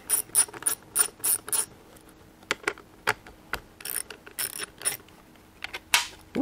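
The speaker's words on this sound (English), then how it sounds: "I'm going to take the hand guards off to get them out of the way." Hand guards being removed from a Harley-Davidson Pan America motorcycle, heard as a run of quick ratcheting clicks from a hand tool followed by scattered taps and clicks, close and alone.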